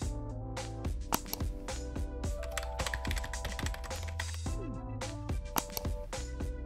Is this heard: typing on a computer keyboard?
yes